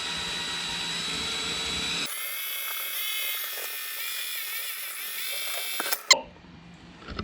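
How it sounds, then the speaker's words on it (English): A power drill bores a hole through a carbon fibre rear spat on a Q50, a steady high whine running for several seconds, then cutting off with a sharp clack at the end. "So let's drill that first one right here."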